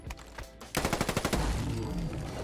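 Rapid automatic fire from a QBZ-191 Chinese assault rifle in Fallout 4. A fast, evenly spaced burst of about ten sharp shots follows a few softer sounds, then rings out into a sustained echoing tail.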